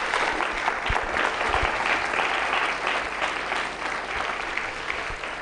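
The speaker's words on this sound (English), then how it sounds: "I think our brother deserves another round of applause." A conference audience of young adults breaks into warm, sustained applause, a full room of clapping with a few louder claps standing out near the start, fading gently toward the end.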